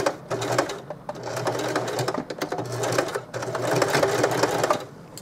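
A sewing machine runs in steady fast bursts close by, back stitching through flannel shirt fabric, its rapid needle chatter briefly easing mid-way before resuming.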